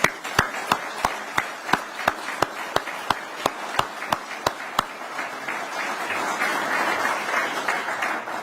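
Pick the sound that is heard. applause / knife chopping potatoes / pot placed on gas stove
applause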